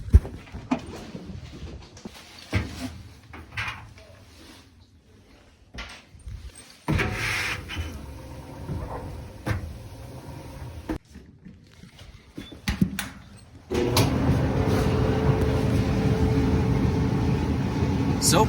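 An unloaded clothes dryer drum spinning, a rough steady rumble that starts partway through and continues loud to the end, after quieter clunks and handling noises with someone speaking.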